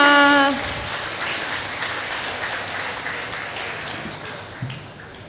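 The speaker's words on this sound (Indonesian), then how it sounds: "Tepuk tangannya teman-teman semua" Audience applause at a university campus orientation opening ceremony, a broad steady wash of many hands clapping that trails off slightly toward the end, with a brief tonal sound at the very start.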